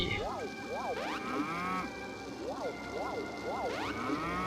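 Cartoonish cow moos repeat over busy music in the video game Spookware, with rising-falling electronic tones and occasional zaps.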